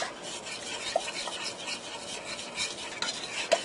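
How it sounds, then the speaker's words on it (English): A spoon stirs apple jelly and lemon juice glaze in a pan over heat, giving soft close scraping and swirling with faint sizzling and a couple of light metallic clinks. "I'm going to stir this all together. Want to get it all blended up well."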